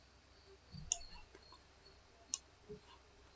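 Two sharp, faint computer mouse clicks, spaced about a second and a half apart, heard alone in a quiet room while selecting the KPI icon in Power BI software.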